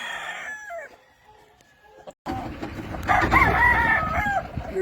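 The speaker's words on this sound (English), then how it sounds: "These are nice roosters." Two-year-old Kelso gamecocks crowing on a farm: after a quiet stretch with a faint call, one or more roosters crow loudly and close, overlapping with clucking and yard noise.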